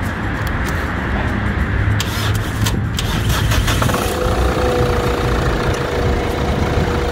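A 20-year-old diesel car engine cranks with a jump-start booster and catches, then settles into a loud, rough idle close by.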